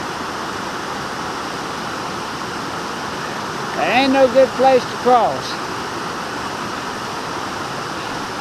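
Forney Creek runs high after rain, a steady, close, full-bodied rush of water that fills the whole scene, while someone speaks briefly partway through.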